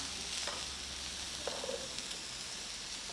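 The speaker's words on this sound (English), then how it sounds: "While we are stir frying, again I need a little bit of seasoning." Green pepper and capsicum chili stir frying in a pan for Mexican chilli mince, a soft steady sizzle with faint stirring scrapes, quiet and close with no voices.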